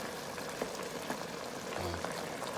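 Chicken tomato stew cooking in a Power XL cooker, a faint steady bubbling and simmering hiss that runs throughout with small irregular pops and no talk.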